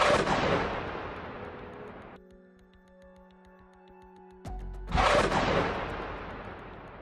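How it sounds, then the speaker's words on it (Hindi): Rockets fired by a fighter from a launch stand among greenery in the Israel–Hamas war, the 107 mm rockets roaring off in loud rushing bursts at the start and end, with a sharp crack between over a quieter stretch. "एक लड़ाका हरियाली के बीच रॉकेटों को दागने के लिए स्टैंड तैयार करता है और फिर उन रॉकेटों को फायर कर देता है"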